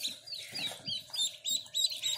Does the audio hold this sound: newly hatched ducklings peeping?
yes